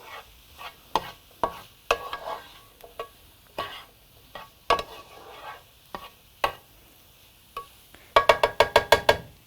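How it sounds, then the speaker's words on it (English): A spoon stirs a black bean and quinoa enchilada mixture in scattered scraping, clinking strokes with quiet gaps between them, ending in a quick rapid run of sharp clinks, close and alone. "And I'm going to stir that."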